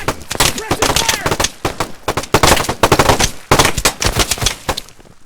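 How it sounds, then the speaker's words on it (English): Full-auto rifle fire in the tactical shooter Operation Harsh Doorstop, several rapid loud bursts close by with brief pauses between, mixed with shouted voices over the shooting. "I can fire full auto."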